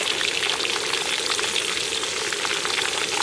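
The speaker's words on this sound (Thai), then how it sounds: "ทอดด้วงรอบสองแล้วนะคะเราก็จะเทด้วงลงไปเลยนะคะ" Steady, dense sizzling and crackling of beetles deep-frying in hot oil in a wok, loud and continuous with no voices.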